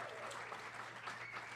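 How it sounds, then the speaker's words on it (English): Audience applause in a cinema, the American Cinematheque at the Los Feliz 3, a steady wash of clapping that fills the whole short stretch at moderate level with no break. "This is where you applaud."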